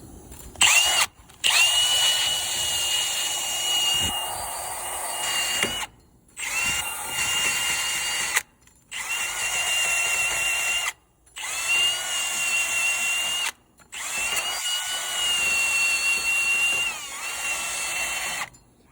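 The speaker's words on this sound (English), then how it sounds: "For those of us who just don't got time, welcome to drill." An electric drill whines in long bursts separated by short pauses, with a gritty scraping texture as it cleans a metal brake rotor, close and steady.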